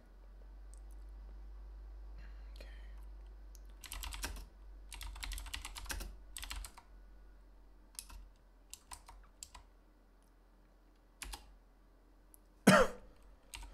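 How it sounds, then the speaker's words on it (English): Careful typing on a computer keyboard comes in scattered bursts of quiet clicks separated by pauses, with a faint background hum and a single louder sharp noise near the end. "I gotta do some very careful typing here."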